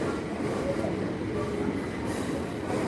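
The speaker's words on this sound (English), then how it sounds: "Is that your train?" A train passes, giving a steady, broad rumble of rail noise that holds at an even level throughout, with no clear talk over it.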